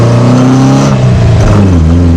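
A Ford Capri engine revs loudly from inside the cabin, its deep harmonic drone rising and falling steadily through the whole short stretch.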